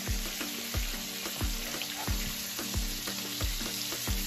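Salmon pan-searing in a frying pan, a constant bright sizzle broken by regular low thumps roughly every two-thirds of a second, close and fairly loud with no talking.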